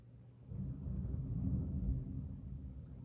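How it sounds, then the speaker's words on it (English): A low, deep rumble of thunder swells and rolls for a few seconds during a rainstorm, then fades slightly, with no voices. "That's thunder."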